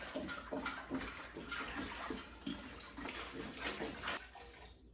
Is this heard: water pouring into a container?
yes